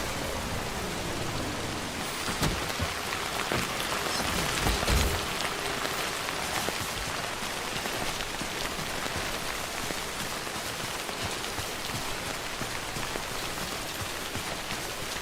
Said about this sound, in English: it's raining like a motherfucker